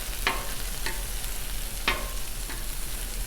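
Kabab skewers of meat and veggies sizzling on a Blackstone griddle, a constant close hiss broken by four sharp spatter bursts.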